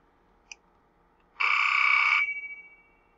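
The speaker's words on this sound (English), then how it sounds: "It's the phone." A phone in the video game Panacea rings once with a loud, buzzy electronic trill lasting under a second, then decays in a quick stutter, preceded by a single faint click.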